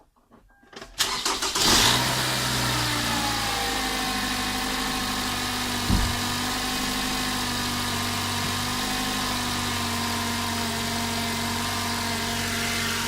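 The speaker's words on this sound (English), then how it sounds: "I'm going to turn the vehicle on" A car engine cranks briefly and catches, then settles into a steady, even idle, heard close and alone with no talk.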